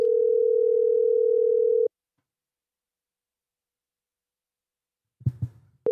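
A steady telephone tone hums for about two seconds while a call is placed, then cuts to silence; a few brief clicks and rustles follow before the tone resumes at the end.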